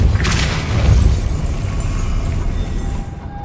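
A Depulso spell fires in Hogwarts Legacy with a loud, rumbling whoosh and deep boom at the start that rolls on as a heavy, fading roar, close and alone.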